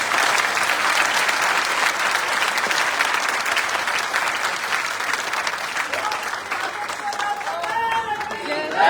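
A crowd applauds steadily to welcome a guest at a Ram temple, loud, sustained clapping that fills the whole stretch, with faint voices surfacing near the end.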